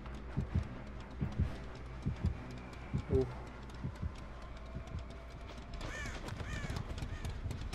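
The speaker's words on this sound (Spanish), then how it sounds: "Cuidado con los pájaros" Crows caw in a dark setting in the video game Dead by Daylight, harsh calls rising near the end over steady ambient game noise and thudding footsteps.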